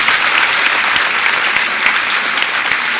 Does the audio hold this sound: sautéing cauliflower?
no